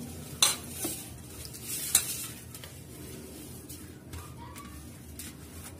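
Brinjal stuffing of spices, salt and chopped coriander being mixed in a bowl, with a couple of sharp clinks early on and soft scraping and rustling throughout, fairly quiet and with no talking.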